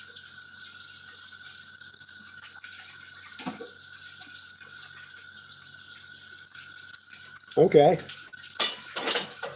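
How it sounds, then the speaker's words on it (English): Dishes are washed under running water, a faint steady tap hiss with occasional clinks, then louder clattering of dishes and cutlery near the end, with a brief spoken word. "She's washing dishes."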